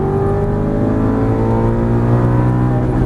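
An Aston Martin V8 Vantage GT race car engine drones steadily and loudly as it accelerates, its pitch climbing smoothly over a few seconds with no voices.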